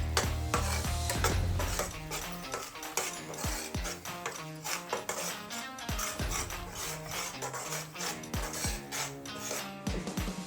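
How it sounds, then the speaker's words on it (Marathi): Gram flour roasting on low flame in a pan for moong dal halwa, with continuous close scraping and rubbing of a spoon against the metal and a soft sizzle underneath, no voices. "आता हे व्यवस्थित असं भाजून घ्यायचंय मंद गॅसवरती"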